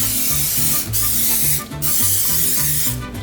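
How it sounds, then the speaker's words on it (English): Olive oil cooking spray can misting into a casserole dish in a home kitchen, three or four steady hissing bursts separated by brief gaps, close and loud over faint background music. "Gonna line it with some olive oil spray."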